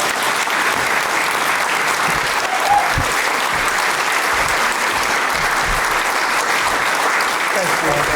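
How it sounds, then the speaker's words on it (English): A hall of fame induction crowd at a college athletics ceremony claps steadily and loudly, a full even round of applause with no gaps from start to finish. "Let's give him another round of applause."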